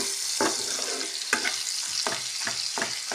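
Fish chachchari with fish oil sizzles and fries steadily in a pan, a constant hiss broken by several sharp stirring scrapes at regular intervals.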